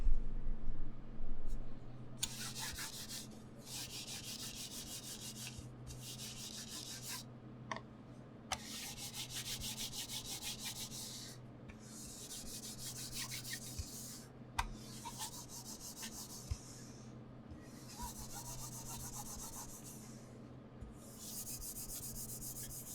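A computer mouse glides back and forth across an Artisan FX Zero cloth mouse pad, making a series of soft, close rasping swipes in rhythmic bursts with brief pauses between them.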